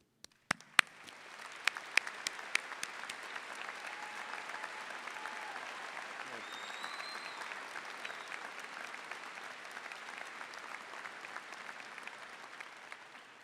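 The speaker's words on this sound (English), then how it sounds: "I'd invite people to applaud that decision" A high school graduation audience applauds in a large venue, a steady, fairly distant wash of clapping that holds for many seconds after a few sharp early claps.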